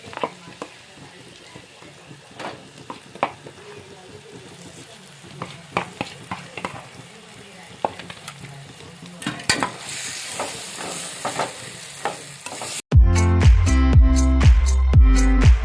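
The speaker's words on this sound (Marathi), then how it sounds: "आता टाकूया वाटण याच्यात" Ground masala paste is stirred around a hot pan while making a Marathi-style tender jackfruit curry, with scattered scraping clicks and a soft sizzle that grows louder before a sudden switch to louder, unrelated sound at the end.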